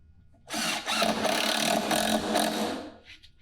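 A power drill drives a T25 Torx construction screw into wood in one loud, continuous whirring run of about three seconds, close by and with no talk.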